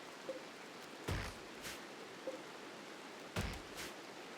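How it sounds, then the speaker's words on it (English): Soft, steady rain falls in the Rimworld video game, a faint continuous hiss broken by a few short, louder patters. "It's raining directly on the carpet."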